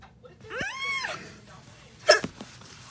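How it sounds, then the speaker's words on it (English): A voiced hiccup-like gulp from an animated character in a Minecraft SMP comedy skit, with a rising vocal squeak followed by a sharp, loud hiccup burst and a short trailing catch, close and alone. "Start the hiccup."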